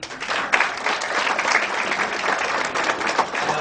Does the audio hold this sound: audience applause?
yes